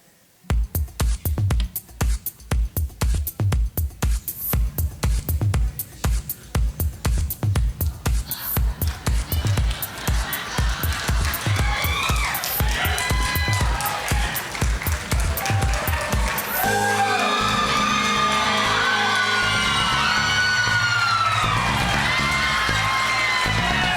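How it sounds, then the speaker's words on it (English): An audience at the Arizona America Pageants Triple Crown Finals claps rhythmically at first, then breaks into loud sustained cheering, whoops and shouts that swell and carry on to the end, close and filling the room. "please cheer loud for your favorites"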